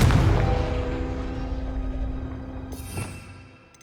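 A Confringo fire spell blast in Hogwarts Legacy, a heavy booming impact at the start that rumbles and decays over a few seconds with a faint ringing tail.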